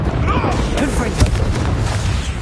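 A Confringo blast spell explodes in Hogwarts Legacy on PS5, one short booming burst near the middle over a dense, busy bed of game noise and rumble.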